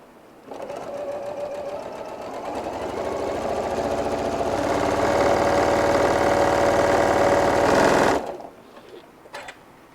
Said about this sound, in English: I like starting at the point and just sewing down